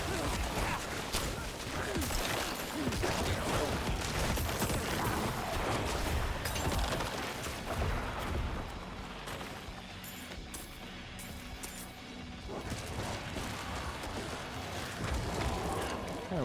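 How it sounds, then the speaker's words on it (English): Explosions in a dungeon stage of a video game, a continuous barrage of booms, crashes and clattering blasts, dense and loud throughout with a brief lull midway. "Explosions, man."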